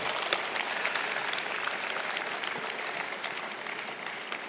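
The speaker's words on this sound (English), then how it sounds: "So I would just request the crowd to give them a usual welcome. Put your hands together, Ali." Audience at a Calcutta Club event in January 2015 claps to welcome speakers onstage, a steady dense wash of applause sustained throughout with no talk over it.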